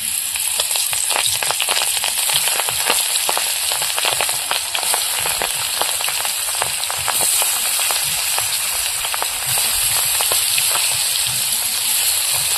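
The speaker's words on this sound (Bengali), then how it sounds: "এবার মাছগুলো ভেজে নেব।" Sona Bogo fish frying in hot oil in a wok, a loud, steady, close sizzle and crackle running unbroken throughout with faint spattering pops.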